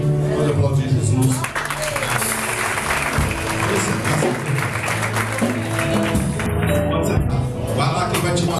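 A church congregation applauds during an evening worship service, busy clapping spread through the room and mixed with crowd voices and a tonal, musical background that stays loud throughout.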